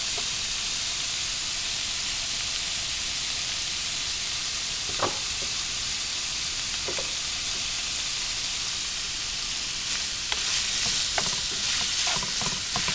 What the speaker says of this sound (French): c'est parti pour la cuisson de la viande